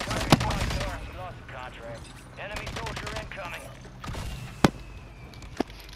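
Sniper fire in a battle royale shooter: a few sharp, isolated gunshot cracks spaced apart, one especially loud near the middle, with players talking over the action.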